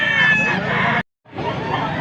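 A rooster crows loudly and close at a poultry vendor's in Angeles, Pampanga, one long raspy call cut off by a brief gap before a second crow begins.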